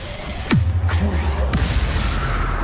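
Confringo blasting spell in a Harry Potter video game fires with a rising whoosh followed by a booming explosion and crackle, loud and close, with further spell blasts after it.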